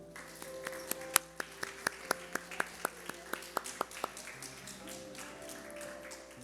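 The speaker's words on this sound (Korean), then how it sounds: "우리 축하의 박수" Applause at a Korean Baptist church Sunday service, a single person's crisp, evenly spaced claps ringing out close by over a quiet room, with soft talk in the background.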